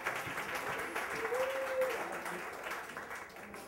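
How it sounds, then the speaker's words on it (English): An audience at a West Chester story slam claps for a storyteller, producing a fairly faint, steady wash of applause with a voice briefly audible over it. "Clap for Aidan, everyone."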